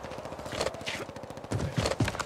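Gunshots in Warzone ring out in irregular bursts, several sharp cracks spaced across the moment, moderately loud against game ambience.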